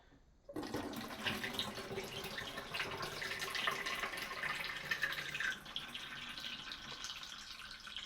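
Cinestill DF96 monobath developer, used on decades-old Kodak Verichrome Pan film in a home darkroom, is poured back into its container as a steady, close, continuous splashing stream lasting several seconds, with no talk.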